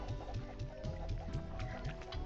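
Chickens in the video game Slime Rancher give soft, repeated clucks in a loose rhythm over a busy game background, fairly faint and with no one talking.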